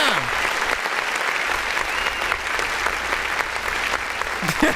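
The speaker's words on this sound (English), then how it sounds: "Why are you double clapping?" Continuous dense clapping from a group, loud and close, with a voice briefly heard among the applause.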